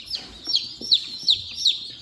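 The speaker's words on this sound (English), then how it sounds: "It was chick days yesterday at the local feed mill. And we ordered some chicks." Baby chicks from a local feed mill peep in a steady run of high, clear cheeps, about four distinct calls close by, with faint background rustle.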